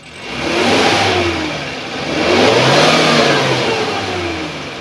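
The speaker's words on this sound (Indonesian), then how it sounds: "Sedikit kita naikkan RPM sampai ke 3000, bagaimana kondisinya." A 2014 Suzuki Carry pickup's 1.5-liter engine revs up twice to around 3000 RPM, rising and falling in loud, close surges with a smooth tone.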